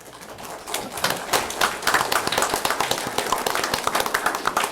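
An audience at a Harlingen city commission meeting claps steadily for several seconds, a dense patter of many hands that swells slightly and holds, with no talking over it.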